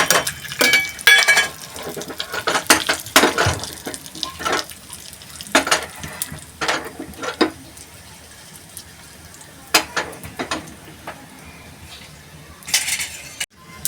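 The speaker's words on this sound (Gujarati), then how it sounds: "આ લવિંગ નાખ્યું, તજપત્તું નાખ્યું, તજ નાખી, હવે જીરું નાખીશું, તજનો કટકો નાખશું, હિંગ અને મેથી." Whole spices for a tempering of cloves, bay leaf, cinnamon, cumin, asafoetida and fenugreek are dropped into hot oil, with a steady sizzle under repeated sharp clinks and scrapes of a metal spoon against the pan.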